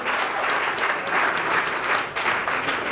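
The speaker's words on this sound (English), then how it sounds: "I expect the clap to be louder." Sustained audience applause filling a hall during a keynote address at a nurses' week event, steady and loud throughout with no pauses.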